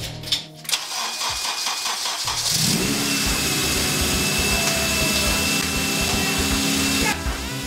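A Honda Civic EK with a freshly installed used engine cranks briefly, catches and settles into a steady, close idle with a whirring, buzzy tone that continues to the end.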